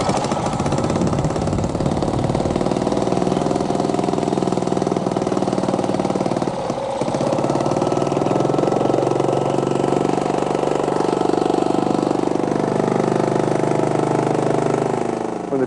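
An engine runs at a steady idle for the whole stretch, a loud, continuous close drone with a slight shift partway through, no voices over it.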